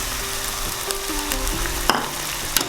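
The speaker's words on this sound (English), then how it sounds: "So I will just stir it and let it cook for another 10-15 minutes until this vegetable gets cooked." Vegetables and fresh mint leaves hiss and crackle in a pot of hot oil for biryani, with a few soft stirring knocks of a spoon; steady and close, no voices.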